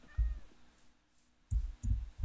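Short cat meows from a Minecraft cat, three brief calls over a quiet outdoor game background, the first alone and the last two close together near the end.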